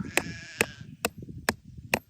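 Five short, sharp clicks at a steady pace, with a sheep bleating under the first two while being moved to a new pasture, then low rustling in between.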